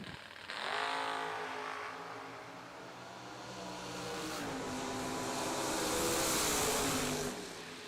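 Drag race cars, including the Fuel Factory Camaro, launch down the strip with a loud roaring engine blast that builds and holds, heard from trackside over a broad wash of noise.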